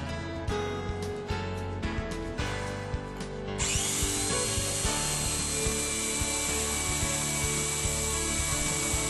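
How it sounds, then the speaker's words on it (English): A drill bores a latch hole into the edge of a wooden door held in a door drilling fixture, with steady, loud high-pitched whine through the second half after an opening stretch of scraping tool setup clatter. "Cylindrical door latches are easy to install with the door drilling fixture."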